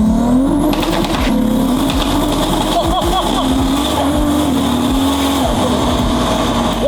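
A 1200hp Toyota Supra engine accelerates hard, loud and close, with layered whining and roaring tones that climb through repeated gear changes, while voices speak over the noise.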